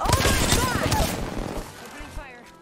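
Rapid volleys of gunfire from a competitive online shooter game, a dense crackling burst running continuously under an overlapping voice chatter and game noise.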